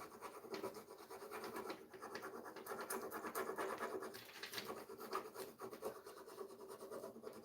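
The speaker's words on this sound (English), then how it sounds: "I'm rubbing my transfer and pulling away that clear backing sheet as I go." Rub-on transfer being rubbed by hand onto a furniture piece while its clear backing sheet peels away, a steady close scratchy rubbing with soft crackles running the whole time, no talking.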